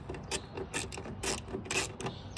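Quarter-inch drive ratchet with a quarter-inch socket backing bolts out of a 1967 Pontiac Firebird, a fast repeated clicking of the pawl in short bursts, close and steady with no talk.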